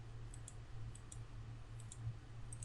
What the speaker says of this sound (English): Right mouse click, enter.